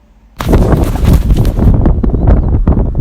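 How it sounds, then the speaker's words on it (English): Loud, blustery wind buffets the microphone in continuous rumbling gusts, dominating the whole recording after a brief quiet start. "Let's head out with Forbes and Mike on a rather windy day to have a closer look at this 106 Quiksilver."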